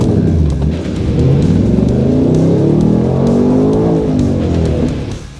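A Ford Mustang Dark Horse and a Mach 1 accelerate hard from a standstill, their V8 exhaust note rising in a loud, sustained roar with climbing pitch sweeps before easing off at the end.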